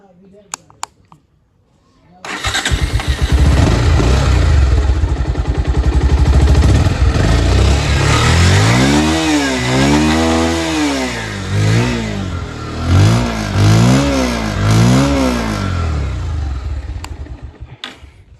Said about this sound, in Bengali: এখন গাড়িটার একটু সাউন্ড শুনে দিই, দেখেন গাড়িটার সাউন্ড কীরকম পান